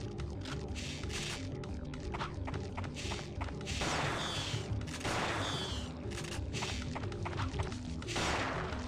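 Shotgun blasts in the video game Parasite Eve 2, several loud, bursting reports spaced a few seconds apart among repeated thuds and gunfire in a busy game soundscape.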